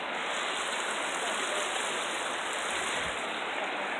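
A small river flows steadily and close by, a continuous broadband rush of moving water with no breaks, fairly loud and with no voices over it.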